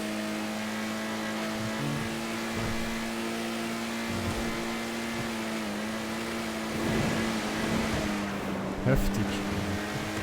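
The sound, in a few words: vehicle accelerating in the video game GTA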